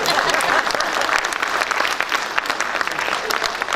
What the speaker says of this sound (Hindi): इस सब का एक ही मतलब है कि आपको तालियां बजानी है।